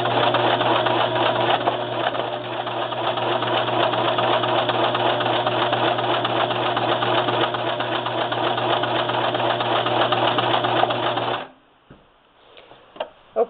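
A Brother LX3014 sewing machine stitches a monogram with a steady, close mechanical whirr and rapid needle chatter for about eleven seconds, then stops abruptly, followed by a few faint handling clicks.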